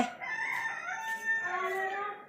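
Chickens cluck nearby in a few drawn-out, throaty calls that rise and fall, with no voices.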